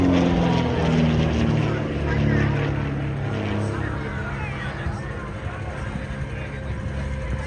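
An aerobatic airplane rolls overhead at Oshkosh AirVenture, a faint distant propeller drone under a nearby announcer's voice, with crowd noise around.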